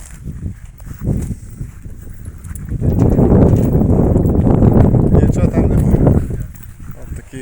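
Hooves of a stallion thud and shuffle close by as it moves over rough ground, with a louder stretch of rustling movement in the middle and occasional voices.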